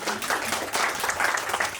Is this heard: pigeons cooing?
no